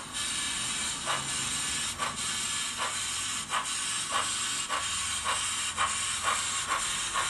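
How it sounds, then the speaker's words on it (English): Soundtraxx Econami sound decoder on an OO gauge 2-6-2T model steam locomotive, steady loud hissing of cylinder cocks with rhythmic chuff pulses repeating about every half second throughout. "You'll hear the cylinder cocks go for 15 seconds."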